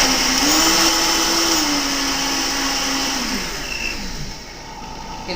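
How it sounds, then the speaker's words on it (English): A soymilk machine whirs loudly as it blends soy oat milk with sugar and salt. The motor tone holds steady, then winds down and settles into a lower hum. "you blend it just a little bit to mix the sugar and the salt"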